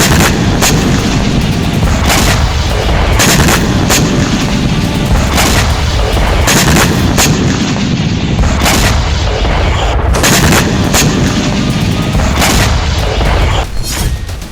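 Continuous heavy artillery fire and gunfire in the war near Kharkiv, Ukraine, a dense, loud barrage of booms and cracking shots with no pause, each blast sharp and close.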